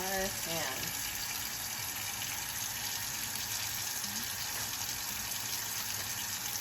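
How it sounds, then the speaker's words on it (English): Tap water runs steadily into a sink during handwashing with soap, a continuous broad gush filling the clip at close range, with a brief voice at the start. "I'm gonna go to my sink and you guys should go to yours, and we're gonna make sure we put plenty of soap."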